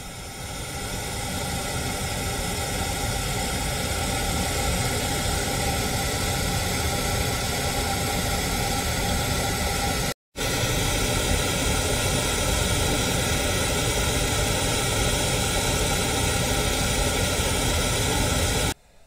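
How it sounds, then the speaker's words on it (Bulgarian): Loud, steady pink noise test signal plays through an upgraded Bose audio system in an Audi Q7 with a Helix V Twelve DSP MK2 amplifier, a constant broadband hiss broken by one brief dropout near the middle. "Сега ще пуснем малко по-силно розов шум и ще ви покажем финалната графика на възпроизвеждането на това"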